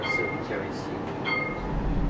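A training tram in Nantes runs along its rails with a steady low rumble and faint metallic squeals, while a voice announces over it.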